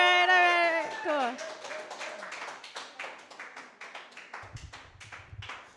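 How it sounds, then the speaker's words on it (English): Comedy club audience claps in a scattered, uneven patter of individual hand claps that thins out over several seconds, following a sustained cheer at the start and with a brief low rumble near the end. "Clap, clap, clap, clap, clap"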